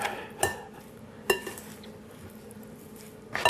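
A spoon stirs ingredients with Himalayan salt in a bowl for a vegan Hanukkah dish: a few distinct close clinks and scrapes against the side, spaced apart, with soft rustling in between and no talking.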